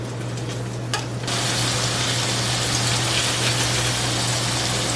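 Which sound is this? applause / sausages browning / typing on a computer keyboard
sausages browning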